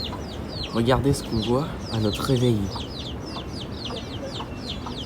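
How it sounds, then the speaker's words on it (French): Soft hen clucks and small peeps from four chicks at a moderate distance on Rodrigues island, under a person talking for a couple of seconds, then continuing faintly alone. "Il y a sa poule avec les 4 petits."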